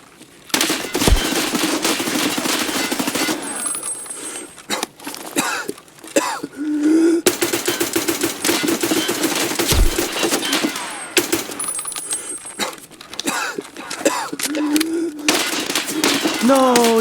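Gunfire in the Escape from Tarkov video game, as a player shoots a scav during a raid: sharp shots and bursts recur across the stretch, loud and close, over steady game ambience with talk mixed in.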